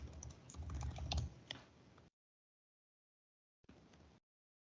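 Computer keyboard typing code, a quick run of close, soft key clicks that stops, then resumes in a short burst after a silent gap.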